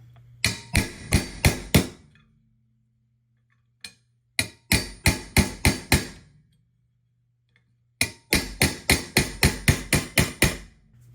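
Steel hammer striking a 5/64 inch punch to drive the pin out of a Colt M4 dust cover: three quick bursts of sharp, close metallic taps, about six to nine blows each, separated by short pauses, with a faint low hum beneath.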